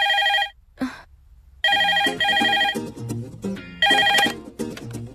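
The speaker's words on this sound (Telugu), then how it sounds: "ఫోన్ చూడు." A telephone rings in a Telugu comedy film scene: loud, close electronic bell bursts repeating in quick pairs with short gaps, heard on its own without talk.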